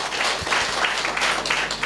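An audience at a Tamil talk claps together in steady, dense applause, a continuous crackling wash with no voices on top.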